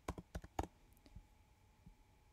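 A theme being typed on a computer keyboard: a quick burst of crisp keystrokes, then a few scattered taps trailing off, close and fairly quiet, with no talking.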